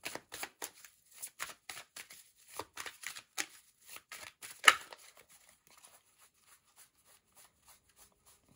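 Tarot cards are shuffled in a quick run of soft riffling flicks, then one card is snapped over sharply, followed by faint handling.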